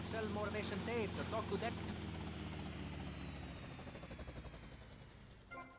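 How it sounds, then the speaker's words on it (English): Helicopter in the video game GTA Vice City, a steady rotor and engine drone that holds across the whole stretch, with a voice talking over the start. "That helicopter looks like it's about to explode."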